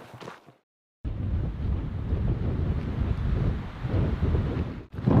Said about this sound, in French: le vent commence vraiment à se lever, vous entendez?